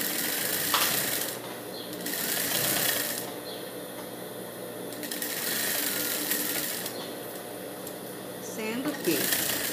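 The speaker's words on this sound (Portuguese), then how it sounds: "E vou costurar até lá em cima no meu ombro" A sewing machine stitches a dress shoulder seam up toward the neckline, running in steady bursts with brief pauses between them while someone talks over the whirring.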